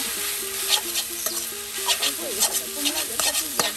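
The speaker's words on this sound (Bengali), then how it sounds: "এই যে এখন শাকগুলো দিয়ে দেওয়া হচ্ছে।" Greens with onion, garlic and chili fry in oil with a steady sizzle, broken by scraping stirring strokes, while a voice talks faintly underneath.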